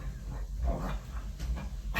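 A dog on a mat whimpers and pants softly, faint breathy pants with a few thin whines, quiet and close.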